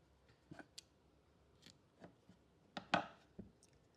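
Crochet yarn is cut with scissors for a letter R keychain, making a few faint, close snips and small clicks in a quiet room.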